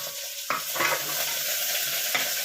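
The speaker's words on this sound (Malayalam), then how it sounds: "ഉള്ളിയും ക്യാരറ്റൊക്കെ ഒന്ന് നല്ലോണം വഴറ്റിയെടുക്കണം." Onions and carrots with curry leaves are sautéed in a pan, giving a continuous close sizzle broken by several scraping stirs of a spoon against the pan, with no voices.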